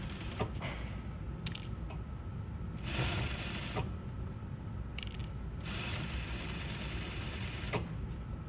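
A sewing machine stitches a shawl collar, its steady mechanical whirr running continuously with short bursts of faster, louder stitching.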